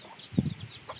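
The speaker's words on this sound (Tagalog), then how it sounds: "Papakita ko lang po sa inyo itong mga alagang manok ng aking kapatid." Pet chickens with newly hatched chicks, one short low cluck from a hen close by plus faint high chick peeps, brief and quiet with no talking.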